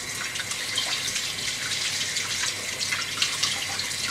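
Tap water running steadily into a sink while hands covered in soda bread dough are rinsed, a close, even hiss and splash lasting a few seconds.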